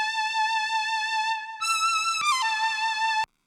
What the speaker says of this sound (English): Really Moog sounding saw